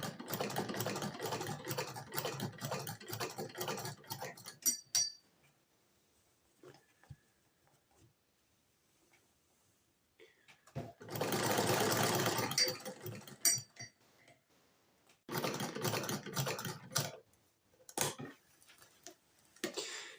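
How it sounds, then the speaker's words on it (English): A sewing machine stitching a fur trapper hat runs in three separate bursts of rapid, steady mechanical clatter, with quiet pauses and faint handling noises between runs. "put a double line of stitching in it to reinforce it"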